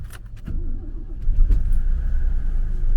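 A 1965 Mercedes 250 SE European-model coupe with a cold engine cranks briefly and catches, settling into a steady low idle close by with no talking.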